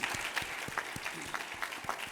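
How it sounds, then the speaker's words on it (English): Sparse, faint clapping rises from a banquet crowd, with individual claps distinct and spaced in a loose rhythm at a distance. "I want to give them a great applause for what they do"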